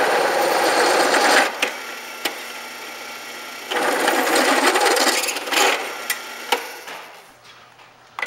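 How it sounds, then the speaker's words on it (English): A drill on its slowest speed turns a cobalt bit through a metal plate with petroleum penetrating oil as cutting fluid, grinding in two long bursts broken by short pauses and a few sharp clicks, close by with no voices. "This is cobalt drill bits, and the drill's on slowest speed, of course"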